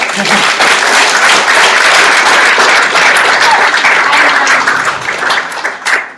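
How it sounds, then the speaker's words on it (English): Loud, sustained applause fills a room at the close of a talk on liveable cities in Fremantle, a thick continuous wash of many hands that holds steady and then breaks into a few scattered claps at the end. "And another round of applause for Brad."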